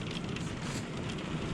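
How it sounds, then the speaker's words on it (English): Heavy summer rain falls outside, a dense continuous roar of drops hammering surfaces, loud and unbroken until it cuts off abruptly, with no voices. "Heavy rain."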